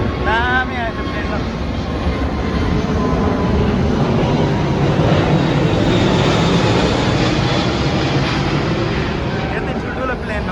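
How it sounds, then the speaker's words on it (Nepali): A large airplane passes low overhead near a market, a loud, sustained engine roar that fills the whole stretch while people talk beneath it. "यति ठुल्ठुलो प्लेन आउँछ यार, गाडी जस्तो यार"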